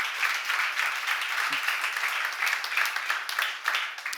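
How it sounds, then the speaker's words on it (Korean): A church seminar congregation breaks into dense, sustained applause, many hands clapping steadily throughout at a fairly loud, even level. "박수하세요."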